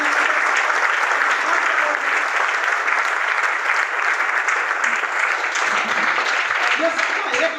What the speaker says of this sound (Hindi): तो ऐसे गुरुओं के लिए तो मैं तो कहूँगा एक बार जोरदार तालियां सर।